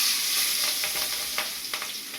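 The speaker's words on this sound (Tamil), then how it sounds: "அப்புறம் நாங்கள் கத்திரிக்காய் பொரிச்ச எண்ணெயில் வெங்காயத்தை போட போகிறோம்" Onions fry in oil previously used to fry eggplant, giving a close, steady sizzling hiss with a few light crackles and soft stirring clicks.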